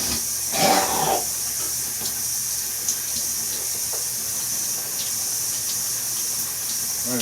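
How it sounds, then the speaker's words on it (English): Water sprays steadily from a handheld shower head, a continuous loud hiss with a brief surge near the start and small splashes throughout. "I'm using my handheld shower head."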